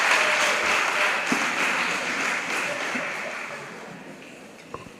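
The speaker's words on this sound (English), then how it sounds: "Go ahead and give her a round of applause for that." Applause from a crowd at a school graduation ceremony, a dense sustained clatter of clapping that slowly fades, with a few louder claps and faint voices underneath.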